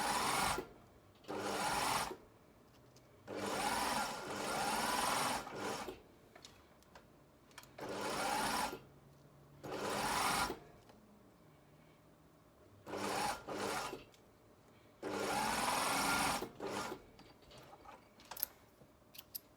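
Sewing machine stay stitching along the side seam and waistband of flared trousers: repeated bursts of fast, steady mechanical whirring, each lasting a second or two, separated by short quiet pauses, near and alone.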